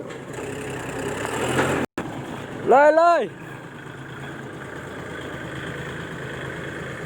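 A tractor engine labours while pushing a load, a low steady mechanical drone running throughout. A voice speaks briefly over it, and a short rising hum cuts in partway.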